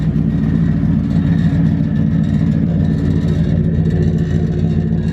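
Ford Crown Victoria V8 running with a loose, rattling exhaust, a loud steady low rumble that holds constant throughout with no pauses.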